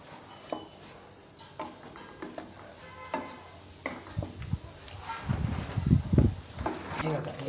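A spoon stirs mango and melting sugar for barfi in a pan, with irregular scraping and thick bubbling scrapes that grow louder and denser toward the end, close up and alone.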